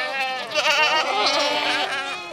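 Goats bleat repeatedly at close range, wavering nasal cries overlapping one another in a loud, brief burst.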